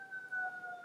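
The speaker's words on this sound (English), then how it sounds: "so sorry about the siren." A siren wails in steady tones from an emergency vehicle out on a busy street, held at a fairly even, moderate level for under a second with no voices over it.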